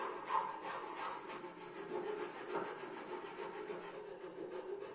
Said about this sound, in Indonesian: Saya kikir juga supaya bentuk dovetail joinnya lebih oke dan smooth gitu ya.